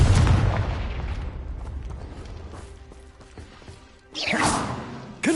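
Fiery spell blasts from the Confringo spell in Hogwarts Legacy, a loud booming burst up front that fades into a rumbling tail, then a second sharp whooshing explosion near the end, with no talking.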